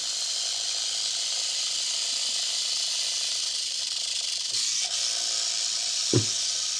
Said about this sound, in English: the sound of her obnoxious tail